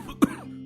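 A single short cough from a sick person lying in bed in a cold, broken-roofed house, sounding as an effect in an animated Hindi story. It is a sharp burst over a faint low background hum.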